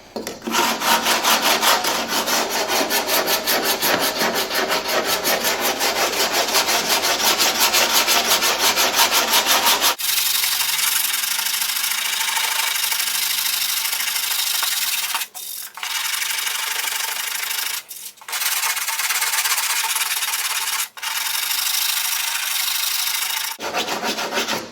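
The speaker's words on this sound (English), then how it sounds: "flat sanding block, and I believe this is like 100 grit or 125 grit" A flat sanding block with 100–125 grit paper rubs back and forth over a model F-16 fuselage, a rapid rhythmic rasp at first, then longer smoother strokes with short pauses between them.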